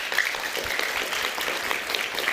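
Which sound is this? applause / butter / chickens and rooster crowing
applause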